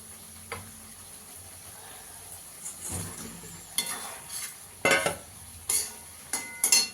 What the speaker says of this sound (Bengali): আমার সর্ষে বাটাটা ভালো করে কষানো হয়ে গেছে, এবার ভেজে রাখা মাছ আর বেগুনটা দিয়ে দেবো।